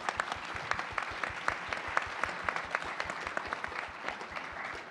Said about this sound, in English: borrow everyone's pair of hands to just give everyone a big round of applause